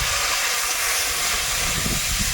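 Thankuni leaves hit hot oil already fried with chopped garlic and whole cumin, giving off a loud, steady sizzling hiss that continues without a break.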